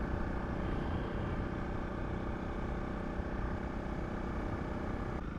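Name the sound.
Honda CRF 300 Rally motorcycle riding on mountain pass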